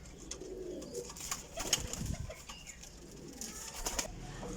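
Kasuri Kamgar Teddy pigeons coo close by in soft, low, rolling calls that repeat through the stretch, with faint ambient rustling and no talk.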